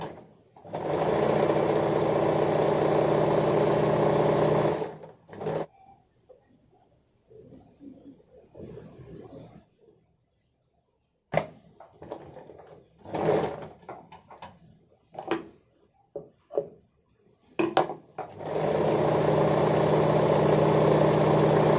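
An electric sewing machine stitches a katori-cut blouse in steady, loud runs of whirring at the start and end, with short bursts and quiet pauses between as the fabric is repositioned.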